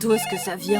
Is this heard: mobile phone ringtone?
yes